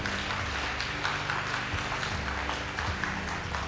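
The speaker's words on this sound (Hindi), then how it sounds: "जोरदार ताली बजाएंगे" Steady, dense applause from a crowd fills the whole stretch at moderate loudness, with faint voices mixed in.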